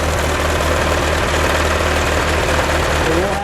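A red 1909 Delage Voiturette engine runs steadily close by, a low, even chugging with regular firing pulses under a broad mechanical wash, continuous throughout with a voice speaking over it.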